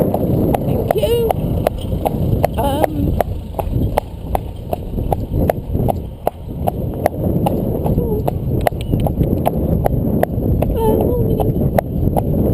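Hooves clip-clop in a quick, regular trotting rhythm close by, with wind buffeting the microphone and a faint high whine above.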